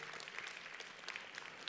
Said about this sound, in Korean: 우리 하나님 앞에 다시 한번 감사와 영광의 박수를 한번 올려드립니다